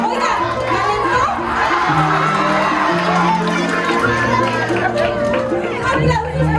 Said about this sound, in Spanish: ¡Aplausos para los dos!